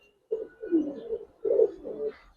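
Coloured Giribaz pigeons at a pigeon farm give two soft, close cooing phrases in quiet surroundings.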